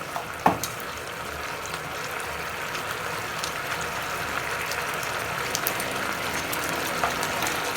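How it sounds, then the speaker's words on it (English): Deep-fried potatoes hit a hot chilli sauce in a pan for a chilli potato dish, giving a steady close sizzle with soft bubbling and scattered little pops and clinks throughout. "Now add the deep fried potatoes in it."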